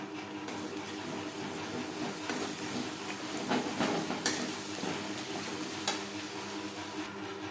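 Spice paste for a vegetarian banana-flower ghonto with tomato paste sautéing in a pan, a steady soft sizzle with occasional stirring scrapes and clinks throughout, fairly quiet and alone.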